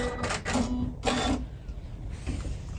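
A sewing machine back stitches the seam of a fabric drawstring shoe bag, running in short mechanical whirring bursts with brief pauses, close and fairly quiet.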